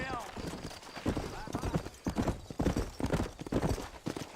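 Horse hooves clip-clopping while riding in the Western game Red Dead Redemption, a steady rhythmic patter of near hoofbeats mixed with game sounds, with a person talking over it.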